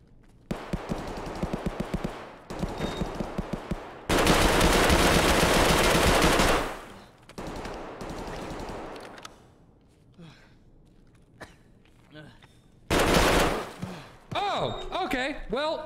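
Shots from a low-recoil Saiga 12 shotgun in Escape from Tarkov come in rapid, loud volleys, several bursts separated by quieter shuffling and movement, with a final heavy salvo near the end.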